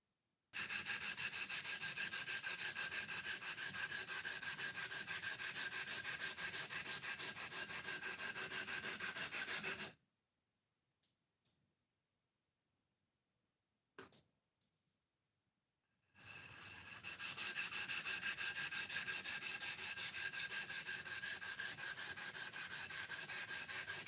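A sharpening stone with gouges left from sharpening is being flattened, a steady, loud back-and-forth rubbing grind that runs continuously, stops for several seconds of near silence, then resumes; no talking.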